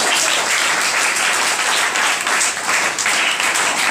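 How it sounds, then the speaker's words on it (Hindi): An audience at a school gathering breaks into loud, dense, sustained clapping that fills the whole stretch without pause. "तालियां एक बार फिर से।"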